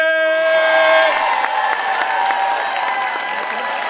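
Live audience at a StorySLAM in Kansas City breaking into loud applause and cheering, dense clapping and whoops following a sustained tone at the start, carrying on steadily to the end.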